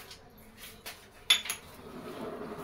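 Metal spoon scraping and clinking in a bowl while mixing stuffed okra with coriander-cumin powder, garam masala, hing and salt, soft scrapes broken by one sharp clink, quiet and close.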